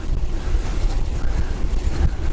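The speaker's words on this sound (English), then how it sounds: "today the Frod is moving against the wind" Wind blowing hard across the microphone outdoors, a continuous loud low rumble and buffeting roar with no other clear sounds.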